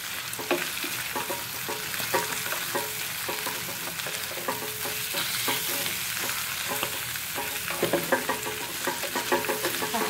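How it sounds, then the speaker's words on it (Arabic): Beef fillet steak sears in a hot pan while being basted with melted butter, a steady broadband sizzle with repeated scraping and spooning clicks throughout, close and continuous with no talking. "هحاول بس كده ان كل اللحمه تتغطى بالزبده"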